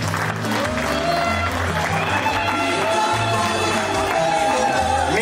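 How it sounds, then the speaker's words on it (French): Guests at a wedding party and dance evening in Villers Saint Paul applaud the newlyweds, a dense continuous wash of clapping from a crowd filling the room throughout. "Applaudissez les mariés,"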